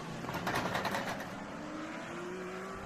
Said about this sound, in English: A horrible sound of the car.